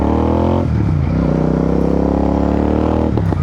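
A loud, deep aftermarket exhaust on a Royal Enfield Super Meteor 650 motorcycle idles with a throbbing burble, then blips and revs briefly twice, close by.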